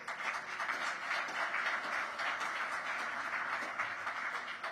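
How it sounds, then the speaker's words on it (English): An audience claps in a sustained round of applause for the sponsors at a Bisnow State of the Market event with Mayor Bowser, a dense, steady wash of hands with no voices over it. "Big round of applause for our sponsors."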